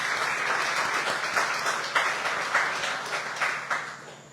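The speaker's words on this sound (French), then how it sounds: "Je vous demande également d'applaudir Monsieur Alain Rutil à leur côté." An audience at a literary prize evening applauds the moderator and guest, a steady wash of clapping with a few louder bursts, continuous for several seconds with no talk over it.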